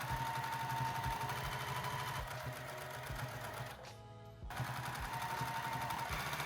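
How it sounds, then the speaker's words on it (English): A sewing machine stitches a pant inseam at a half-inch seam allowance, a close, steady mechanical whir with rapid rhythmic needle clatter, briefly pausing near the middle before resuming at the same pace. "we're going to bring it over to the sewing machine and sew that down at 1/2 inch seam allowance as well."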